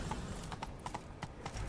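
Horse hooves clip-clop at a gallop in The Witcher 3 video game, a quick uneven rhythm of sharp hoofbeats over a steady background, fairly close and continuous for the whole short stretch.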